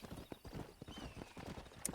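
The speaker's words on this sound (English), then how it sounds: "I'm trying to ride my horse" Horse hooves clip-clop steadily in a rapid rhythm as the rider travels through Red Dead Redemption, close and fairly quiet, with a brief higher sound near the end.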